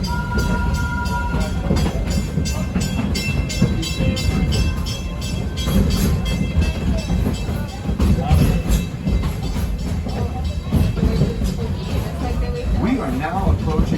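The Wildlife Express train at Animal Kingdom rolls along its rails with a steady rumbling clatter throughout, and a voice can be heard talking over the noise.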